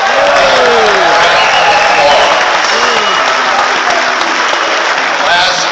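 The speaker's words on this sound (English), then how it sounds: "big round of applause." Concert audience at a Veterans Day show in a theater applauding the Marines, a loud, continuous roar of clapping and cheering filling the whole hall, with a voice speaking over it.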